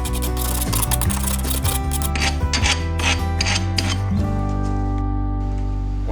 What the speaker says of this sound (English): I used a metal file to file down the edges where the cuts were made on the bolts